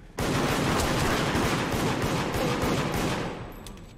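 Sustained dense gunfire in the video game Deceit, a steady loud burst of rapid shots running about three seconds before tapering off, with no talking over it.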